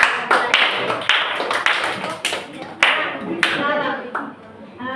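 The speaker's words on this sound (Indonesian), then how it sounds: "tepuk tangan untuk Andre." A short round of hand clapping from a small group, a few seconds of loose, uneven claps with some voices underneath.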